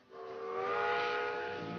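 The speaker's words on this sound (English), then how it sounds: "The sounds of the locomotives belching smoke into a previously pristine sky." A steam locomotive whistle blows one long sustained chordal wail, swelling quickly and holding steady, somewhat distant and faint.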